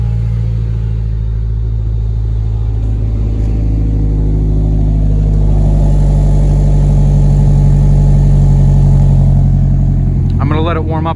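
A 500-horsepower Honda S2000 sits idling in neutral, its engine giving a steady, low, even rumble close by with a faint rising rev at the very end.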